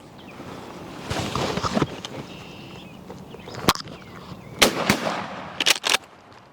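Gunshots fired at a turkey during a spring hunt in New England: several sharp, loud cracks spaced unevenly, with two shots close together near the end, over faint outdoor ambience.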